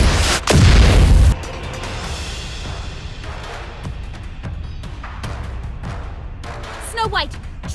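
Artillery explosions in the Nikke Goddess of Victory video game, one heavy booming blast up front followed by a lower rumbling battle bed with scattered thuds and a brief crackling burst near the end.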